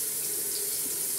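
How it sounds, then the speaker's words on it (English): Water runs steadily from a tap into a sink during a doll's spa-day wash, a continuous close hiss with no talk. "I'm just gonna turn on the water."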